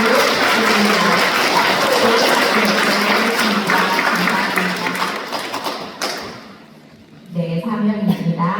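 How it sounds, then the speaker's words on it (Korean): Congregation at a Won Buddhist Sunday service breaks into welcoming applause, a dense sustained clapping wash that fades after several seconds before voices and room noise return. "환영의 큰 박수 부탁드립니다."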